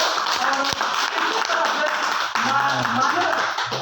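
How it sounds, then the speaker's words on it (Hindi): Clapping from a political gathering of BPSS members in Muzaffarpur, Bihar, greeting the audience in welcome: steady dense applause throughout, with a voice rising over it in the second half. "ताली बजाकर स्वागत करते हुए"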